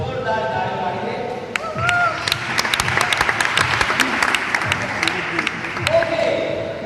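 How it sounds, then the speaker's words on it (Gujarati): Audience at a Methodist youth fellowship gathering in Nadiad claps loudly and steadily, with sharp individual claps cutting through the dense applause, while voices murmur underneath. "જોરદાર તાળી પાડી દે."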